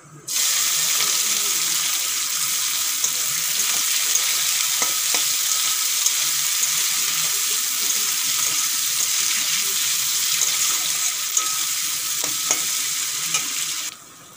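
Onions frying in a pan for a home-style country chicken and potato curry, with whole garam masala already in the oil; a steady, loud, continuous sizzle runs nearly unbroken with occasional stirring clicks.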